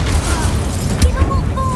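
Confringo explosive spell cast in a Harry Potter video game, a thudding magical blast with a bright crackle and whooshing tonal sweeps, loud and close over steady background rumble, with a voice briefly present.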